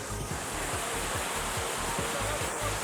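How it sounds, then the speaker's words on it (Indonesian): Steady, dense roar of the Benang Kelambu waterfall with a low rumbling churn, continuous and fairly loud throughout, no voices. "Dengan aliran air terjunnya yang jatuh ke bawah itu"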